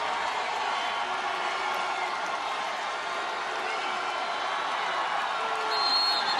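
A Jacksonville State home crowd at a 2010 college football game against Wofford keeps up a steady, broad roar of noise that holds evenly throughout, with a slight swell near the end.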